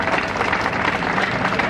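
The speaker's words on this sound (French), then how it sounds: "Vos acclamations s'il vous plaît" An audience claps at an official ceremony in Kinshasa, a loud, dense, continuous burst of applause from a crowd, near and filling the whole moment.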